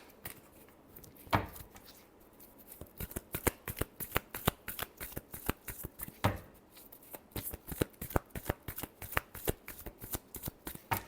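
A deck of tarot cards is shuffled by hand in repeated bursts of crisp riffling slaps, close and alone, with short pauses between rounds.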